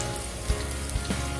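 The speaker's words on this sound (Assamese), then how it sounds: "পিঁয়াজৰ ৰংটো সলনি হোৱালৈকে মই এনেদৰে অলপ ভাজি থাকিম।" Onions fry in a pan until they change colour, giving a soft steady sizzle with a few faint taps of stirring, close and alone without talk.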